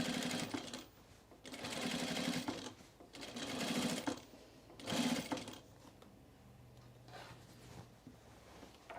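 A home sewing machine stitches a Fairfield button-up shirt in three bursts of steady mechanical whirring, separated by short pauses, with a faint quieter run at the end.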